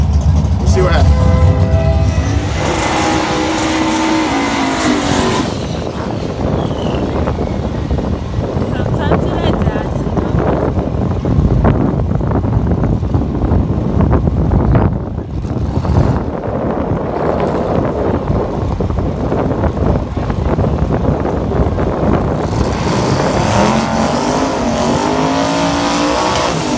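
A turbo 5.3 V8 in a third-generation Camaro runs hard and loud with a sustained engine roar and some wind buffeting, close throughout, with voices talking over it at times.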